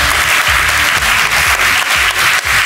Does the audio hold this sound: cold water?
no